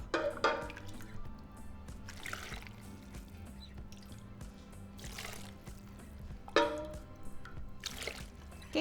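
Broth poured into a blender cup holding tomatoes and chile pods, a soft liquid splashing and trickling in a few bursts over a low steady kitchen hum.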